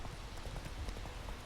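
Horse hooves clip-clop in The Witcher 3 as the horse Roach trots through a crowd, a quick, steady rhythm of light thuds at moderate volume with no voices.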